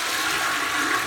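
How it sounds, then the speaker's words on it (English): A toilet flushes after a fix that stopped its whistling and constant running, a steady rushing gush of water held at even loudness for about a second, close up with no talking. "the flush still works."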